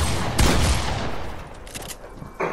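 Gunfire in the video game Fortnite, with a burst of rapid shots near the start followed by a few quieter scattered shots.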